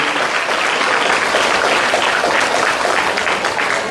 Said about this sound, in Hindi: आप लोग जरा एक बार ताली बजा के स्वागत करिए रंजीत प्रभाकर जी के लिए।